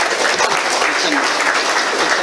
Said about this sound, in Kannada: ಜೋರಾದ ಕೈ ಚಪ್ಪಾಳೆ.